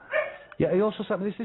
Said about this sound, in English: If you hear my dog in the background, I think he wants to go out. He's just whining.